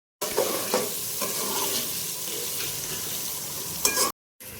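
Tomatoes cooking in a pan for potato chicken pulao, a soft, even, continuous sizzle with light stirring ticks, fairly quiet and close, cutting off abruptly near the end, no voices.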